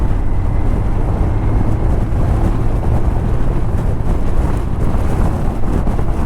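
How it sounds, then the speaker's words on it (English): Wind buffets the microphone on a windy-day ride aboard a 1984 Honda CB700 SC Nighthawk S motorcycle, a loud, constant low roar mixed with engine drone, unbroken and with no talking. "Very windy day today"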